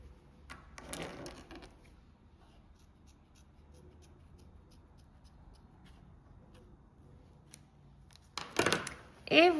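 Scissors snip through crochet yarn at the finish of a small knot-shaped bag, with two short, close crisp bursts of cutting after a long quiet stretch with faint handling.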